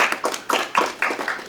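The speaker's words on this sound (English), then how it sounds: "I just want to give you a round of applause." Light scattered clapping from a small audience applauding Army spouses, a few hands tapping in uneven bursts, fairly close and brief.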